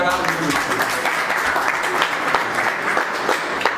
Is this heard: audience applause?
yes